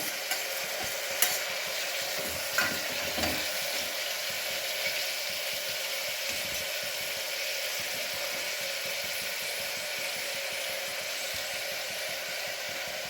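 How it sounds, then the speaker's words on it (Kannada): Onions and chopped tomato fry in a pan, giving a steady close sizzle and hiss with occasional stirring clinks, no voices over it. "ಈರುಳ್ಳಿಯನ್ನು ಸರಿ ಫ್ರೈ ಮಾಡ್ಕೊಳ್ಬೇಕು. ಈಗ ಹೆಚ್ಚಿದಂಥ ಟೊಮೆಟೊ ಸಹ ಹಾಕ್ತಾ ಇದ್ದೇನೆ."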